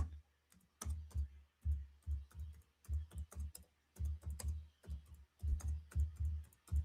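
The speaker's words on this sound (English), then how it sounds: "Typing this in." Typing on a computer keyboard: a close, steady run of rapid, irregular key clicks and taps in short bursts, with no voices.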